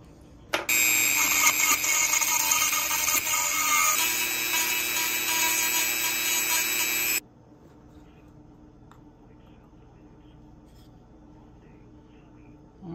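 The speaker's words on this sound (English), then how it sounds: "Now I'm gonna grind this head all the way down and push this pin out." A grinder works down the head of a blade pin on a 1961 US military Camillus pocket folder, a loud, high, whining grind for about six seconds that stops abruptly, leaving quiet room tone.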